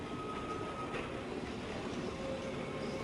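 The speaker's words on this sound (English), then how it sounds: "We find a high-speed car leaving Fort Wayne as a nickel plate passenger train moves through." A Nickel Plate passenger train moving through Fort Wayne in 1941 footage, a steady rolling rumble with faint wheel squeal and whine throughout, constant and moderately distant, without speech.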